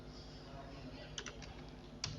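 Computer keyboard keys tapped while entering data into an Excel spreadsheet, a few sparse, quiet clicks over low room hum.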